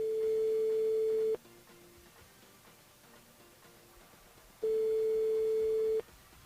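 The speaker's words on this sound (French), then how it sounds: "Un appel Eva ce matin sur le standard, c'est parti" A phone line rings out at a radio station's switchboard: two loud, steady electronic ring tones, each lasting over a second, separated by a quieter pause with faint background, with no talking.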